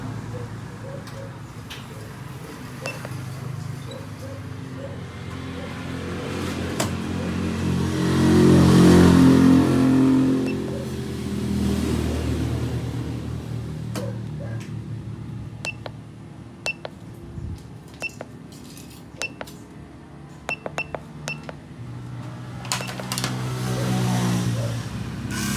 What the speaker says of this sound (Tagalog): gagamitan natin siya ng diagnose para i-trigger natin yung motor ng ABS kung gumagana